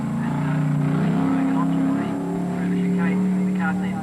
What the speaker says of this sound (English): Graham Cromarty found his big GTHO quite a handful on the narrow hill climb course